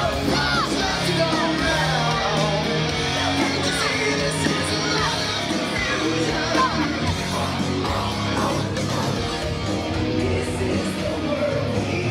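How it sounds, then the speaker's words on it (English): A wrestling arena crowd at a live prime-time wrestling show cheers and yells nonstop, a dense roar of shouts and whoops filling the hall at high volume throughout. "The crowd is psyched for this one."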